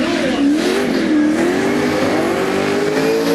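A car engine, an old mate's modified car, revs hard and loud from close by, its pitch rising and holding high in a steady sustained roar the whole time, with no talk.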